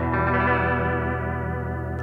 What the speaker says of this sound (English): So that's Echo Program 6, the DMM vibrato mode.